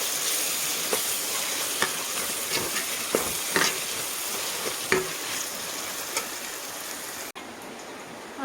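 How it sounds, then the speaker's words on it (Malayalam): Chicken masala cooks in a pan on the stove, giving a soft steady sizzle and bubbling hiss punctuated by occasional light clinks and stirring taps, fairly close and without talk. "അങ്ങനെ ഞങ്ങളുടെ ചിക്കനൊക്കെ അടുപ്പത്ത് കയറിയിട്ടുണ്ട് കേട്ടോ"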